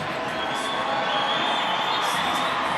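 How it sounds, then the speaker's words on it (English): An indoor soccer crowd at a San Diego Sockers versus Tacoma Stars match roars in a steady, dense wash of cheering and shouting, loud and continuous with a commentator's voice faintly woven through. "Crowd getting loud."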